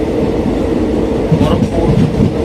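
Yercaud Express running on rails between Chennai Central and Erode, a dense steady rumble of wheels and carriage with faint rhythmic clatter throughout, close and loud, no talk.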